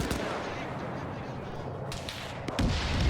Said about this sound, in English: And hearing the tanks fire here.